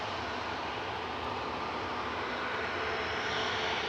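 Airbus A350-1000 passenger jet arriving at Manchester Airport from Orlando, a steady broadband engine rush and roar, moderately distant and gradually growing, with no one speaking.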